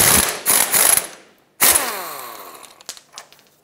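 A ratchet wrench clicks in quick bursts, then in one long sweep, as it backs off a 22 millimeter nut on the driver's side of a 1996-2002 Toyota 4Runner's front lower control arm. The sharp metallic ticking is close and loud, with no voices.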